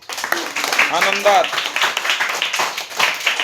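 Fifth-grade pupils in a village primary school classroom clap their hands in a quick, even rhythm of many claps, heard near and under a teacher's voice.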